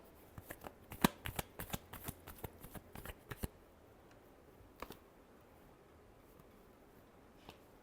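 Tarot cards are shuffled in a quick run of crisp, close riffling snaps for about three seconds. A few isolated taps and card flicks follow in a quiet room.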